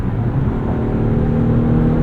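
A 2025 Mazda CX-90 plug-in hybrid with a 2.5-liter engine hums steadily under acceleration, its piped-in engine note a constant low drone heard from inside the cabin.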